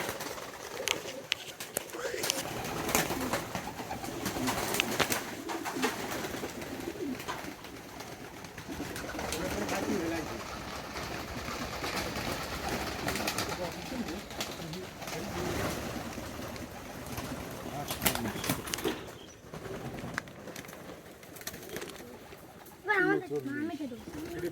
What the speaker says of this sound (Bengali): আমরা এখন এই পর্যন্ত 73 কবুতর ছাড়ছি ভিতরে